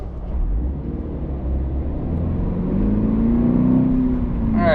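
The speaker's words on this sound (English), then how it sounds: "when you're accelerating quickly up to speed is when you'll really hear the engine noise" Toyota GR86 engine droning steadily from inside the cabin while driving, a low continuous hum with tyre and road roar that rises gradually in pitch as the car accelerates.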